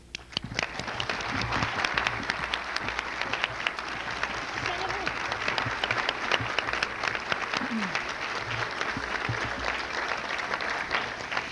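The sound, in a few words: audience applause for senatorial candidates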